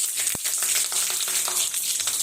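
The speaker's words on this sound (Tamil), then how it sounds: "எண்ணெய் சூடானதும் கொஞ்சமாக கடுகு போட்டுக்கலாம், கொஞ்சம் ஜீரகமும் போட்டுக்கலாம்" Mustard seeds and cumin crackle and sizzle in hot oil for a tempering, a steady frying hiss with small popping ticks, close and fairly loud.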